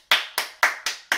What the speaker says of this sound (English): I think you should give yourself a big clap and a pat on the back like this.